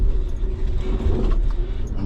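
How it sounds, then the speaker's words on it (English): An off-road vehicle crawls slowly over rocks on a trail along Old Fincastle Road, with a steady low engine rumble and the deep, uneven grind of the tires over stone throughout, close and continuous. "There's a rock in front of me here, just big enough that I'm gonna put my tire on top of it."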